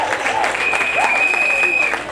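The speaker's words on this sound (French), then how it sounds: "On peut applaudir pour le pasteur des jeunes." Applause from guests at a wedding reception, steady and close, with whistling or cheering tones and voices rising over the clapping.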